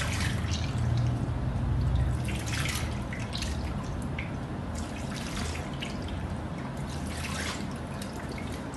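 Steady running water from a tap splashes into a sink as hands are rinsed during a handwashing demonstration in Ghana, a continuous close rushing that lasts the whole stretch with no talk.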